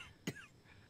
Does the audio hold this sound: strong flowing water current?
no